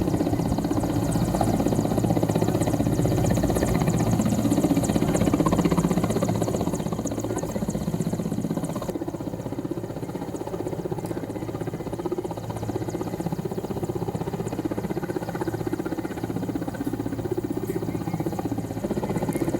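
A helicopter's engine and rotor drone on steadily and loudly throughout, a dense continuous mechanical roar with whine and vibration, close by and with no talking over it.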